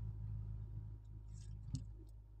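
A 2020 Mazda 6 engine idles with its RPM raised above 1000, a faint steady low hum broken by a single small clunk partway through.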